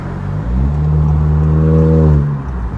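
Honda Accord Sport 1.5T with its intercooler resonator deleted, heard from inside while driving in normal mode: a steady, loud engine drone rising gently in pitch as it accelerates, then easing off, with no voices.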